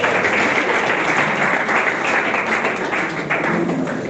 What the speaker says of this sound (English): Please clap until he comes to say